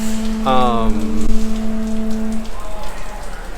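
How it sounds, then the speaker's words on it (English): Steady heavy rain patters and hisses across an outdoor surface at a theme park on a rainy Sunday, a continuous wash of drops with a brief tonal hum and faint background voices mixed in. "it was pouring rain"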